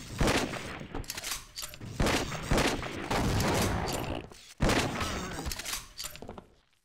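Gunfire from Half-Life: Opposing Force in a Sven Co-op multiplayer session, a run of loud sharp shots and cracking impacts in uneven bursts, with brief pauses between volleys before the noise trails off.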